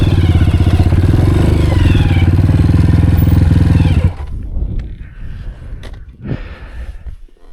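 A Honda CRF 230F dirt bike idles close by with a steady, loud, rapid thumping engine note for about four seconds, then cuts off, leaving quieter outdoor rustles and shuffling.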